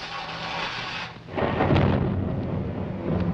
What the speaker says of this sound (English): That storm's coming back.